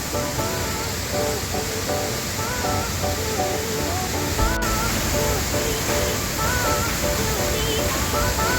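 Waterfall near the Shri Kshetra Manudevi shrine in Yawal taluka, Jalgaon, roaring as a dense, unbroken wash of falling water, loud and constant throughout, with faint voices blending into the spray.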